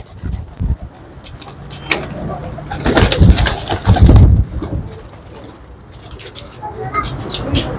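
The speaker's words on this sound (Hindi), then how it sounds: "ये मेरे बिजली कबूतर हैं।" Bijli racing pigeons, an Imamdeen and Kamgar mix kept in Rawalpindi, coo close by amid rustling and a few knocks, with a louder burst of activity in the middle.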